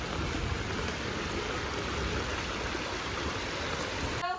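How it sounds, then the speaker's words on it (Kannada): A steady rush of flowing stream water fills the clip, constant and fairly close, with no voices. "ತೋಡು ನೀರು ಪೋವಂದುಂಟು"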